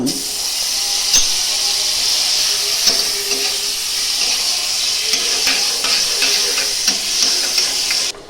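Capsicum and tomato frying in ghee and butter make a steady close sizzle with soft stirring scrapes, continuous and fairly loud throughout, with no talking.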